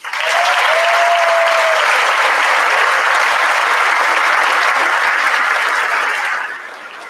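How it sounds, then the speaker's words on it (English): A high school graduation crowd gives a long, dense round of applause for the faculty, loud and steady throughout before thinning out at the end. A faint voice or whistle briefly rises above it early on. "Please join the class of 2018 in a well-deserved round of applause for these educators."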